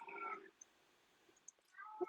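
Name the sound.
cat meowing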